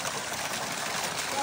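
Water gushing steadily from the roots of a tree at a hillside shrine, a close, continuous broadband rush that holds constant throughout.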